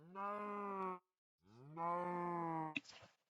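Two drawn-out moos from cows in a Minecraft-style blocky game, one after another with a short pause between, then a brief rustling thump at the end. Clear and close, no talk.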